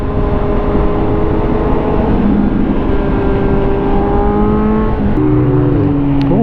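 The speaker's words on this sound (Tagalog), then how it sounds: "Oh, nice car, yellow Ferrari." A yellow Ferrari drives past on a road with steady, loud engine drone and shifting tones, heard from a 2022 Kawasaki Z900 motorcycle whose own engine and wind roar run continuously underneath.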